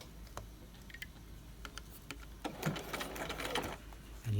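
A sewing machine stitching three of four layers of plaid double cloth with a standard stitch, starting with short, hesitant bursts of needle clatter that build into a steadier, louder run near the end.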